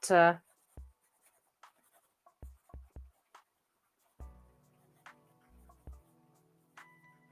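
A pencil sketches on paper in short, sparse scratching strokes separated by pauses, close and fairly quiet, with a voice talking in between.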